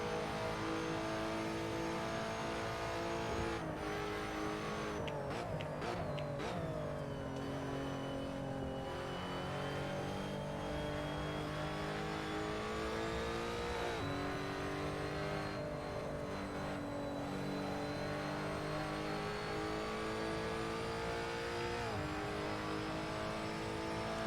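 Lotus Evora GTC race car engine at Barcelona in a racing video game, a continuous loud engine drone rising and falling in pitch through gear shifts and acceleration, heard from onboard.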